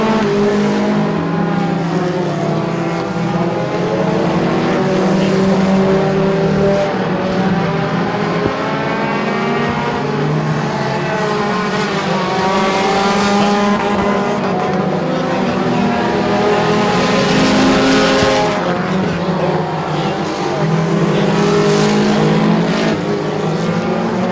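Race cars circle the Chatham Raceway oval during the final race of a 2021 season opener, their engines sustaining a continuous, loud high-pitched whine that rises and falls as they pass.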